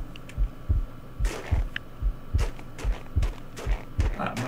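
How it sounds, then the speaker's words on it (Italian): Minecraft game heartbeat sound effect, a soft, steady double-thump pulse repeating about once a second, fairly quiet, with faint background hum and a few brief clicks. "Senti che c'è quando stai con un cuore c'è il battito, spettacolo."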